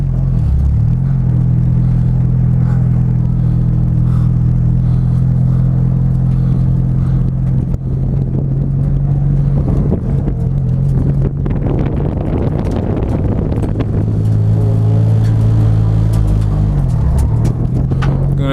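Car on an autocross run: loud, continuous in-cabin engine drone with heavy wind rumble, the revs rising and falling through the course.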